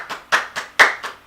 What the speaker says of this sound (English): We need the clapping button.